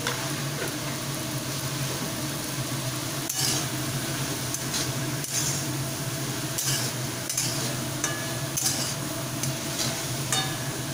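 Winter vegetables sauté over a gas flame in a pan while a spoon stirs them and turmeric powder goes in, a steady close sizzle broken by scraping strokes and occasional clinks of utensil on metal.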